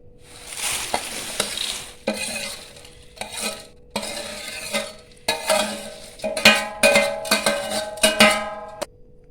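Fried Diwali chivda ingredients being stirred into a spiced tempering in a pan, with a low sizzle and repeated scraping, clanking strokes of a metal spoon that come in bursts and grow busier toward the end.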